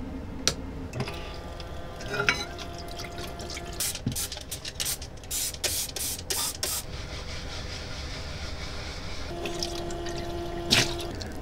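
Running water splashes in a camper van sink as dishes are washed with a sponge and foam detergent, with clinks of dishes and rapid scrubbing rattles, ending with a steady stream of water.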